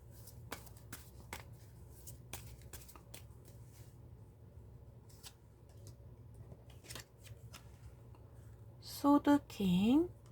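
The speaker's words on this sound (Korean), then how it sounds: "추가 카드를 뽑아보도록 하겠습니다." Tarot cards are shuffled and drawn, with crisp card snaps and taps spread through the clip, close and quiet, and a brief burst of shuffling near the end.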